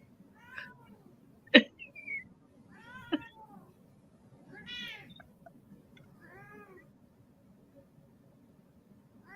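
A hungry cat meows repeatedly up close at feeding time, a series of short plaintive cries with one sharp yowl, over a low background hum.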